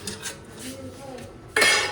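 A short clatter of dishes and utensils, ending in a louder burst of clanking plates near the end.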